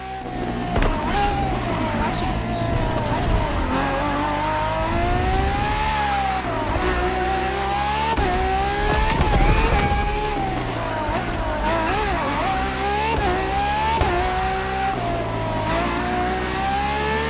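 A Ferrari FXX K supercar in The Crew Motorfest screams close and loud, its engine rising and falling through rapid shifts and lifts, with brief tire noise in the hard corners.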